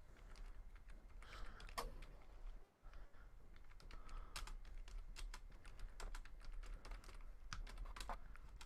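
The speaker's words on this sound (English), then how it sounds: "I'm typing this question" Rapid typing on a computer keyboard, close and steady, with a continuous clatter of keystrokes and one brief pause near the middle.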